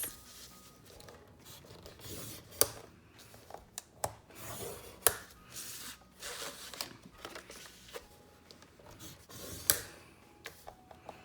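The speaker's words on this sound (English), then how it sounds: "we're going to score at 1/2 inch on both sides to create the pocket pages" Paper being scored with a scoring board at half-inch marks to make mini album pocket pages, heard as quiet, repeated scraping strokes broken by several sharp clicks, close and soft with no talking.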